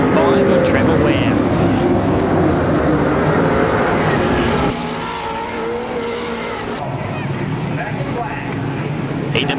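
Super sedan race cars roar around an oval racetrack in a heat race, a dense, loud engine drone that drops slightly in level midway, with a commentator's voice over the public address.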